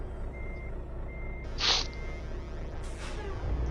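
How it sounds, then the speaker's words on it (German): A truck horn sounds in a driving video game during a traffic jam, two short high blasts over a steady engine drone, the second fainter, with no talking. "Siehst du, werde ich schon angehupt, weil ich einen Stau verursache"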